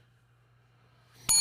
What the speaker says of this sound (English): Ring the damn bell. Ring that bell.